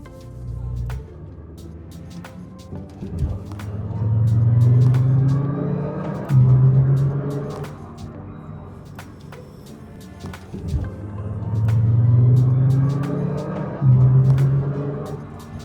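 A 2008 Nissan GT-R R35 on the move: the engine swells up in two strong acceleration pulls and drops back between them, with faint clicks and a low rumble under the rising revs.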